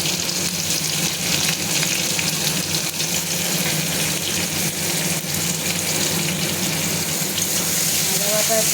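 Ginger paste frying in a pan with oil and tomato for a taro dish, a steady loud sizzle with watery crackle and occasional stirring, a faint voice beneath it.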